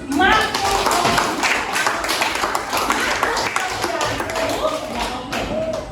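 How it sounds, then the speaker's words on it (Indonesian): A class of students clapping together in a classroom in dense, steady applause lasting several seconds, with voices mixed in. "Beri tepuk tangan untuk Silinus"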